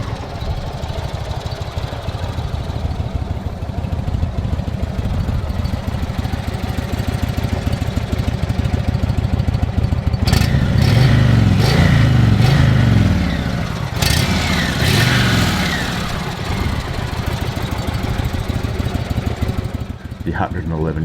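An Indian Roadmaster motorcycle's 111 cubic inch Thunderstroke V-twin idles with a deep, uneven rumble, then revs up sharply a few times before settling back to idle.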